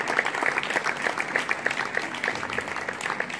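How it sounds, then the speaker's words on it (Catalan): An audience claps warmly for a woman named Maria Medina at a festival event, a dense burst of close applause lasting a few seconds. "m'agradaria molt que l'aplaudíssiu, perquè és un tros de mare i és una valenta"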